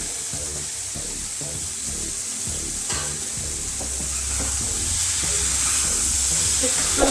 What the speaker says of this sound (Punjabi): ਤੜਕੇ ਨੇ ਤੇਲ ਛੱਡ ਦਿੱਤਾ ਤੇ ਹੁਣ ਆਪਾਂ ਇਹਦੇ ਵਿੱਚ ਹਲਵਾ ਕੱਦੂ ਪਾ ਦੇਵਾਂਗੇ